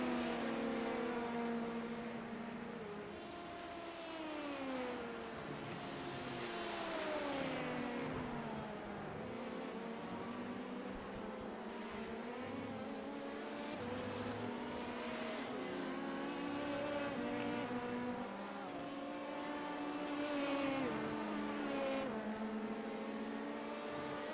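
A race car in an endurance racing video game drives the Le Mans circuit through the double curves onto the Mulsanne straight, its engine whining steadily with rising and falling pitch sweeps as it shifts gears, continuous and unaccompanied.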